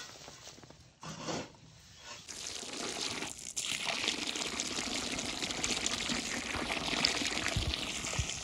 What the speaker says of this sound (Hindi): इसको जो है पानी लगा रही हूँ